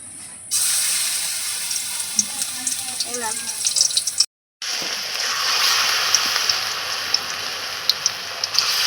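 Kachu flower fritters dropped into mustard oil, a bright steady frying hiss that starts abruptly, breaks off briefly and resumes, with a voice speaking over part of it.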